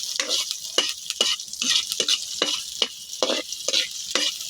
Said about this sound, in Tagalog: haluin lang natin guys hanggang mahalo